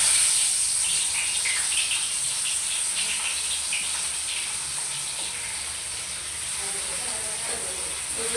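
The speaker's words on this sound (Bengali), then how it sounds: "মাছটা দিয়ে ভেজে নেই।" Fish frying in hot oil in a wok gives a steady, loud, close sizzling hiss that holds evenly across the whole stretch with little change.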